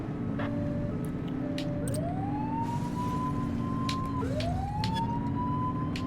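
A police car siren wails in The Precinct, two rising sweeps in succession over steady traffic and engine noise, fairly loud and close.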